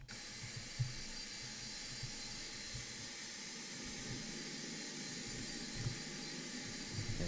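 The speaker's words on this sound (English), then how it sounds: "Number 2 starting to spin." Steady roaring hiss of a Boeing 747-200's number two engine spooling up during start in a flight simulator, a broad continuous whine with a few faint clicks, heard alone.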